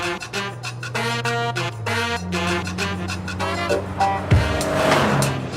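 A JDM car's engine revs up through rising, falling tones as it pulls away and accelerates, loud and close, with a sharp thump and rushing noise near the end and no talking.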